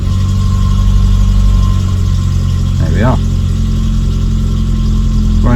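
A Citroen AX car engine runs at a steady, loud idle after starting, with one brief rise in pitch partway through and another near the end. A person speaks briefly over the engine noise.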